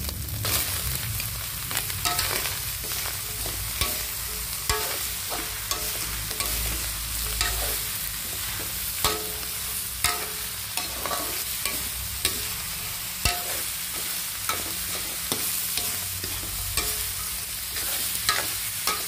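Bottle gourd is stirred into browned ground meat frying in a pan, with a constant sizzle under repeated scraping and clattering strokes of a spoon, close and fairly quiet, with no voices.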